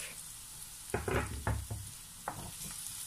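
Chopped garlic fries in a pan, a soft background sizzle broken by a few louder bursts of crackling and stirring near the middle, with no talk.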